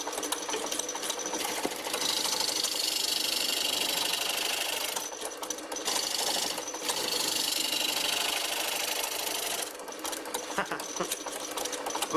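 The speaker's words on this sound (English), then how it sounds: "try finishing the inside with some hand scraping" A hand scraper works the inside of a wooden bowl spinning on a lathe, making a continuous loud rasping buzz that drops out briefly a few times before resuming.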